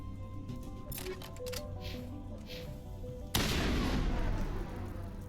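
Assault rifle fire from Mass Effect rattles in quick repeated shots, then a sharp loud burst erupts with sustained gunfire and explosions, mid-distance, with faint talking mixed in.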